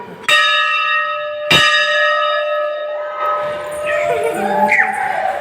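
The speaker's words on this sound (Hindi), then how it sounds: "आप ऊपर घंटी बजा रहे हैं" A temple bell at the Parampuri Dham shrine in Rohtas, Bihar, is struck twice, each loud clang ringing out with a long, shimmering decay, followed by a mix of voices and commotion.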